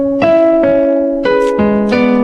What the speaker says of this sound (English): Lisa, just give us a chord there